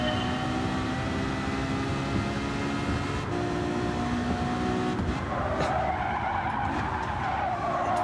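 Engine note and tire skid from a race car braking in Gran Turismo 7, a steady layered drone with a smeared screech building in the last few seconds, loud and continuous with no talking.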